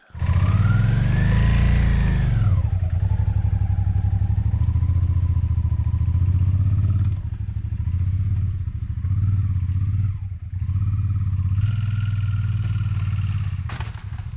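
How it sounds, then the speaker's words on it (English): Off-road motorcycle ridden out of the woods, the engine revving up and down with a steady loud drone and occasional clatter, close by throughout. "the only thing that's left is for me to get the bike out of the woods"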